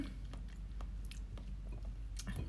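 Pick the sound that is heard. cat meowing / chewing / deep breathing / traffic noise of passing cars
chewing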